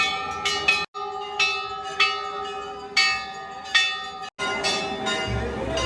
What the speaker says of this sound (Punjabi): ਟੱਲ ਦੇਖੋ ਬਈ ਕਿੱਡੇ ਕਿੱਡੇ ਲਾਏ ਹੋਏ ਨੇ